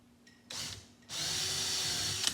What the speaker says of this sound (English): I can't start my drill just like that